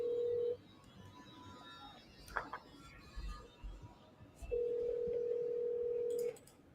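A phone call to a lender is placed: a steady dial tone, then a few quick keypad beeps and clicks, then a second long tone, clear and close with no talking.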